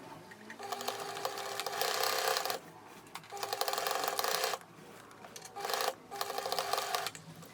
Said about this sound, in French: je vais venir coudre proche du bord entre mes épingles